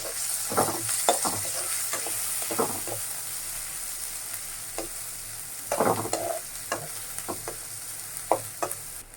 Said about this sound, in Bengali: পেঁয়াজটাও আমি ভেজে নেব